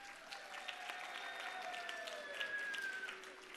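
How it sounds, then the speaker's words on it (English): An audience at a Bharatanatyam arangetram applauds steadily for the dance guru, a soft, even patter of clapping heard from a distance, with a faint tone drifting under it. "A huge round of applause to our Guru, Srimati Divya Barath."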